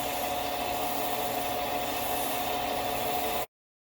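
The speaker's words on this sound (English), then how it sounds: "This is just a little bit of Scotch-Brite. Put a little polish on it." A Scotch-Brite pad with a little polish rubs steadily on a zero-turn mower's starter motor, a continuous close scratchy hiss that stops abruptly near the end.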